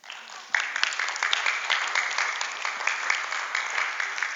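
Church congregation clapping during a sermon, a sudden burst of many hands that starts sharply and carries on as a loud, even patter without a break.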